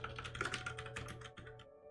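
Rapid clicking keystrokes on a computer keyboard while coding in a terminal editor, a dense, quiet run of taps close up over faint background hum.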